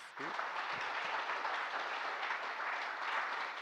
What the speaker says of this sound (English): If we can give Alex another round of applause.